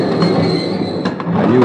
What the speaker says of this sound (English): As the train moved into the station